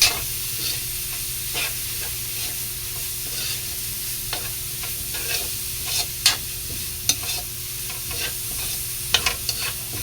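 Pork loin for batchoy frying in a pan, a continuous sizzle broken by repeated close scraping and clacking of a spatula stirring, with a few louder knocks and no voices.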